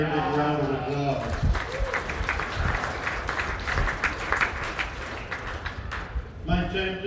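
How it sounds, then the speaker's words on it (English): Crowd applause for the lambs at the Montgomery County Fair sheep show, a dense burst of clapping lasting about five seconds, with a voice talking just before and after. "let's give them all a great big round of applause"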